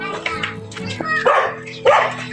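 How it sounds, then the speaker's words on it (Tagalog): A dog barks several times at close range, sharp yapping barks spaced through the stretch, mixed with people talking nearby. "Ang aso niya."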